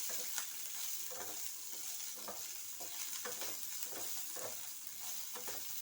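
Ingredients frying in a hot pan until reddish, a continuous bright sizzle with regular scraping strokes of stirring, close and steady, with no voices.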